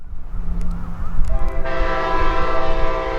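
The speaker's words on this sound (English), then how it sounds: "Kyle Myers, in the engineer's seat of Amtrak engine number 315, is bringing number 92 into its Winter Haven stop." Amtrak train 92 behind engine 315 rolls in with a loud, sustained multi-tone horn blast over the heavy rumble of the locomotive, close by and continuing to the end.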